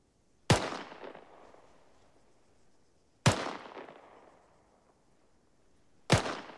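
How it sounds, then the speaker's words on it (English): Three loud, sharp machine gun bursts at a sustained rate of fire ring out a few seconds apart, each echoing and fading slowly in open air. "a sustained rate of fire will sound something along the lines of this"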